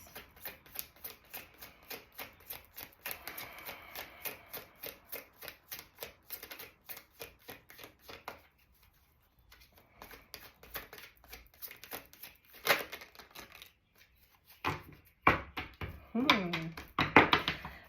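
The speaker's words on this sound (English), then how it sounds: "I'm going to get a couple more cards here to start the reading off." A deck of tarot cards shuffled in a fast, regular riffle of crisp slaps, then a pause followed by looser handling with taps and rustles, close and clear, with a voice talking at times.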